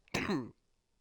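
One short, rough cough or throat-clear, close and fairly quiet, followed by silence.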